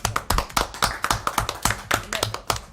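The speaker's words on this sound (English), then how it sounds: "that's applause to everybody" Applause at a city council meeting, a steady patter of claps from a modest group of people in a room, sounding fairly close and carrying on without speech.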